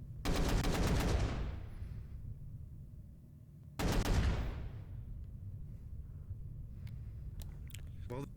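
Two long bursts of automatic gunfire in a roleplay firefight video game rattle out close and loud, each trailing off into a fading echo, separated by a quieter stretch with faint background activity.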